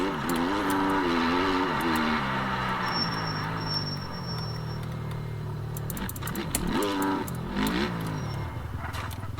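A motocross bike in the game MX Bikes drones with a rising and falling engine tone as the rider works the throttle, steady and fairly close, with sharp clicks and clatter spiking in the latter half.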